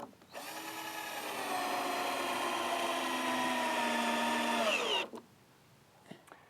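A power drill drives screws into a cedar garden bed in one sustained whirring run of about five seconds that ends abruptly, followed by quiet with a faint knock.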